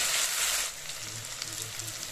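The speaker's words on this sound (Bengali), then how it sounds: "দিয়ে ভালো করে নেড়ে চেড়ে কাঁচা রসুন আদার গন্ধটা যেন চলে যায় 5 মিনিট ধরে ভেজে নেব।" Ginger, garlic and green chili paste fries in a hot pan, a dense close sizzle that drops back to a quieter crackle as it is stirred and moved about.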